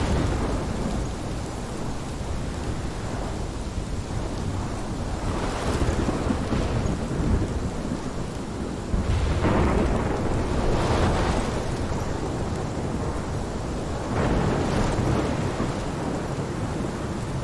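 A thunderstorm in the video game Life Is Strange: steady heavy rain with several deep rolls of thunder rising and fading, one louder crack near the middle, no voices.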